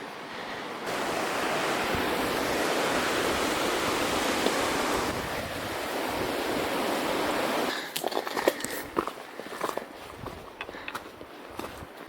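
Steady broadband rushing of the Animas River, a mountain river at Molas Pass, fills the first several seconds, then gives way to crunching footsteps and scattered knocks over a softer water background.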